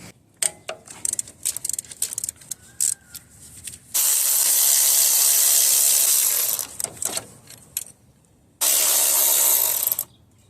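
A 14mm bolt is loosened on a 2.4 Toyota Camry engine: close metallic ratchet clicks and small clinks, then two long loud bursts of hissing spray.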